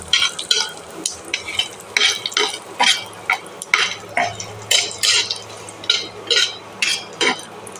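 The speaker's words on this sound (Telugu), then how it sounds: "ధనియాలు జీలకర్ర వేసేసుకుందాం ఎండుమిర్చి నూనె నూనెలో బాగా ఫ్రై చేసుకోవాలి" Coriander seeds, cumin and dried red chillies fry in oil in a pan for a Telugu toor dal powder, with steady sizzling under repeated stirring scrapes of a spoon against the pan, close and moderately loud.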